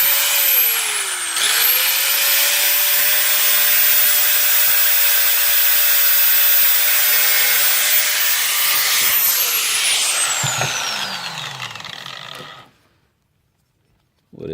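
A power tool spins up with a rising whine, then cuts a notch into a 3V steel blade with a steady high-pitched grinding, winds down and falls silent before a short final noise.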